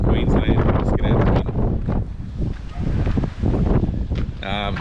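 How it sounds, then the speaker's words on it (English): Strong gusts buffet the microphone continuously near a wind farm at Burra, South Australia, a loud, broad rumbling roar with a brief whistling tone near the end; a voice is faintly present underneath. "obviously down here it's that windy"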